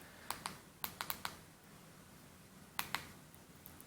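Sharp, faint plastic clicks of remote buttons pressed to type a password arrive in quick clusters, a few in a row, then a pause, then another short burst, over a quiet room hum with no talking.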